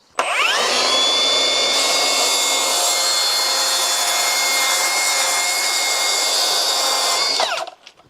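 A Milwaukee track saw ripping a long cut through 5mm plywood, a loud steady high-pitched whine that spins up abruptly, holds evenly for about seven seconds, then cuts off and winds down.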